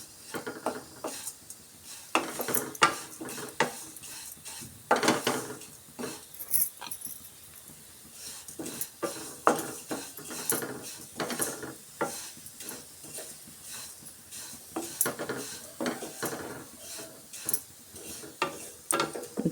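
Vermicelli being roasted and stirred in a pan over low heat, a run of irregular scraping and clinking strokes of a spoon against the pan with a soft sizzle underneath, close and steady.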